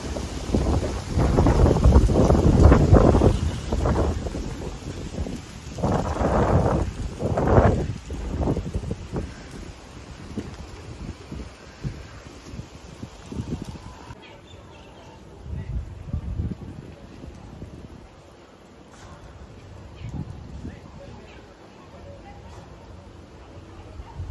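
Evening storm wind roars outdoors in loud, surging gusts that rumble and buffet the microphone, then ease to a lower, steadier blow.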